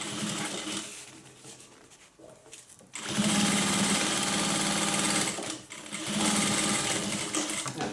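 Sewing machine running a straight 1/4-inch seam on fabric, with a fast, even mechanical whir in two close bursts separated by short pauses and quieter handling sounds.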